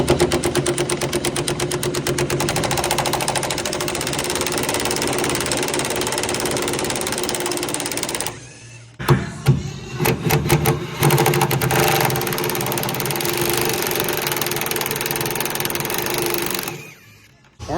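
Impact wrench on a 1965 VW Beetle rattling off bolts in long, loud continuous bursts, then a pause with a few short hits before another sustained run.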